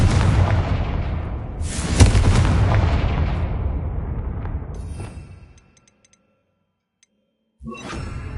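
A Confringo explosion spell detonates in a video game with a loud booming blast and a rumbling tail. The rumble fades into near silence before another sound starts at the end.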